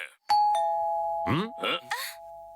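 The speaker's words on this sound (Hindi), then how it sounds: "लगता है आपके घर की डोरबेल बजी है" A cartoon doorbell chimes with a bright ding-dong of two sustained tones, followed by overlapping animated voices talking.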